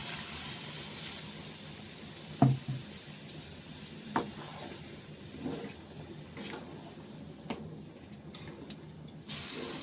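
Chickpeas and potatoes frying in a pan make a steady, quiet sizzle and hiss throughout. A few sharp clicks and clanks from a utensil break in at intervals, with no voices.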